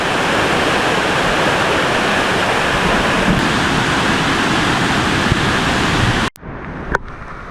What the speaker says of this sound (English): I found that waterfall